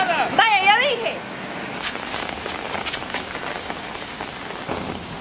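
Steady rain falls on a surface, a dense continuous patter from start to end, with a voice speaking loudly over it near the beginning.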